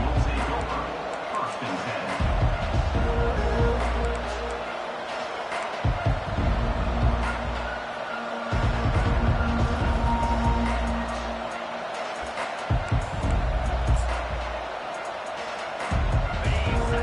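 A packed stadium crowd roars in sustained waves at a college football game, loud and continuous, with a commentator talking over the noise in bursts.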